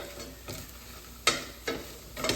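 Oyster mushrooms being stirred into melted butter in a pan, a soft steady sizzle broken by four or five distinct scraping strokes of the spoon, close and clear with no talking.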